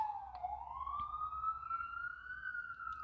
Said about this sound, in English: I love when the ambulance has to come save someone's life.